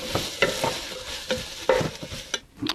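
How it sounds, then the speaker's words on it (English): Green peppers being stirred in a hot pan for a vegan Southern-style chili bean dish, sizzling steadily while a utensil scrapes and clacks against the pan in several quick strokes, close and without talk. "Stir that around."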